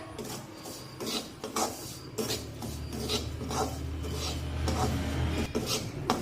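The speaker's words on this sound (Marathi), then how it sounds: "एकसारखा उलटण्याने हलवून हा रवा छान गुलाबी रंगावर भाजून घेऊया" Semolina roasting in a pan and being stirred with a spatula, a steady dry rasping and scraping with repeated strokes over a low hum, close and moderately loud with no talking.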